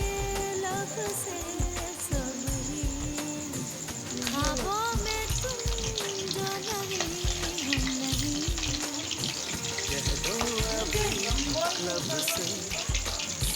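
Snail fritters fry in oil with a continuous bubbling sizzle, heard under a person talking and a tonal background, holding at a fairly even level throughout.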